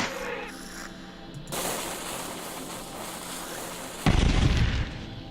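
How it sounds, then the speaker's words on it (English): Dynamite blowing up in the video game Eldritch: a sudden loud, wide burst rises out of a low rumbling background near the end, with a dense roar that holds for about a second before easing off. "I found an area where I want to use dynamite."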